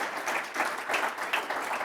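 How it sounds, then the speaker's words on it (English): Applause from an audience during a talk on school governance, a soft continuous patter of many hands with slight swells, fairly distant and modest in level. "That's applause."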